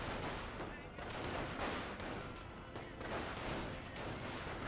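Rifle squad under heavy fire in a Company of Heroes World War II battle, dense continuous rattling gunfire and scattered shots, steady and moderately loud, with a voice talking over it throughout.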